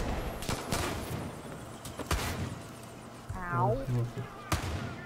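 Rocket launcher blasts in the game Far Cry New Dawn, several sharp separate explosions spaced a second or so apart, with a swelling rumble midway and a player's short exclamation.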